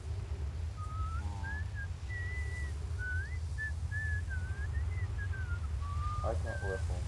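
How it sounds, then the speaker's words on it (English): Someone whistles a wandering, thin melody of short linked notes at a steady pace, set against a low constant hum. A voice breaks in briefly near the end. "I am able to whistle the tune, but it is very difficult."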